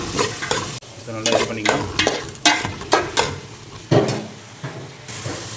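Carrot and beetroot, with potato to follow, stirred and frying in a pan for a Tamil-style poriyal, giving a steady sizzle with scraping stir strokes throughout while someone speaks briefly over it.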